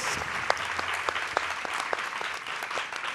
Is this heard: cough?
no